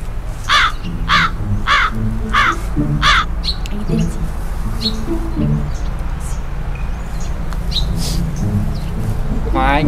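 Crows caw several times in a quick series close by, each call harsh and loud, then fall quiet while a person talks over an outdoor background hum, with another bird call near the end.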